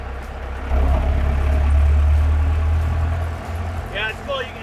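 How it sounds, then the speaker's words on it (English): An old four-cylinder engine in a welder-built fuel truck pulls hard under load, a loud low drone that swells and holds for a few seconds, then eases off near the end. "You can hear that old 4-cylinder start to pull real hard."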